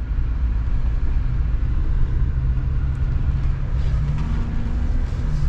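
A 2022 GMC Sierra 1500 AT4 Extreme pickup truck drives steadily, its engine and road noise forming a loud, continuous low rumble close by, with no talking.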